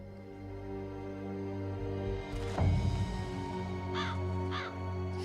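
A crow in the video game Dreamfall: Chapters lets out several distinct caws toward the end, heard over a sustained musical drone and a brief swell of rustling noise.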